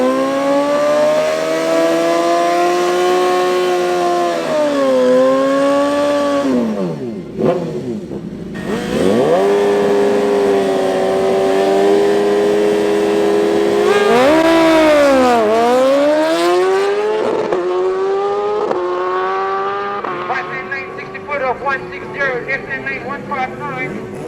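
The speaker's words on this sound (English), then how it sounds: "In the bike class, first up we got Lomari going up against Sally on the BMW" A BMW motorcycle drag racing at a club event at Tarlton International Raceway screams loudly through a series of rising gear pulls, its engine pitch climbing and dropping at each shift, sustained and close.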